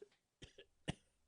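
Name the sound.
cough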